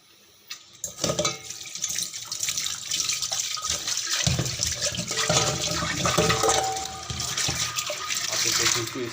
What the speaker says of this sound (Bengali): পাতিলটা ধুইতেছি